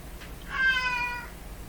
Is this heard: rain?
no